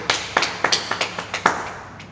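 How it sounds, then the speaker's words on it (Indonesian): Hand claps at an online church service, a series of about eight sharp, evenly spaced claps that fall into a loose rhythm before stopping, fairly close and with no voices over them. "Tepuk tangan untuk kita semua"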